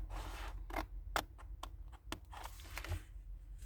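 Scissors snip the corners off a card for a stocking filler, giving close, quiet, irregular cuts and paper rustles.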